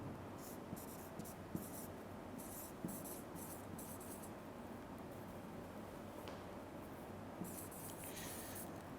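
Pen or marker writing on a board during a Hindi-language math lecture, a faint scratchy sound under steady room hiss with intermittent short strokes.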